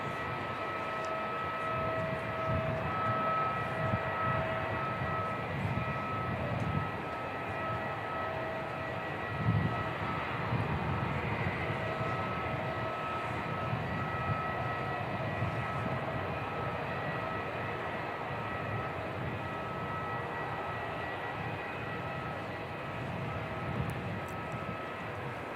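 An airliner, flight NZ 651 bound for Queenstown, pushing back at Christchurch Airport: a steady, continuous engine and ground-equipment drone with a faint high whine, moderately distant and unbroken throughout, with no talk.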